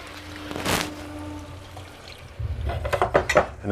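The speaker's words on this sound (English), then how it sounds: "And add some water to this." Water pours into a pan that already holds cheese for keto taco filling, a short splashing pour followed by clinks and knocks of cookware and utensils.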